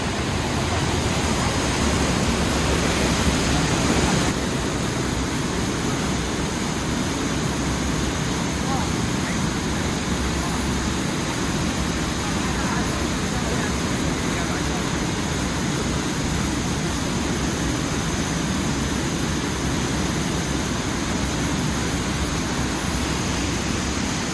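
Steady, loud rushing of a waterfall in a Scottish forest roars without pause, a broad wash of noise filling the space with an echoing quality.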